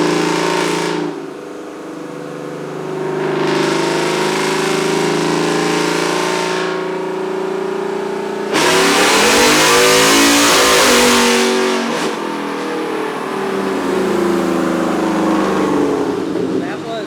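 A 2021 Ford F-150 with tube headers and a Borla catback revs hard on a dyno in fifth gear, its loud engine climbing in long sweeping pulls, easing off, then surging again.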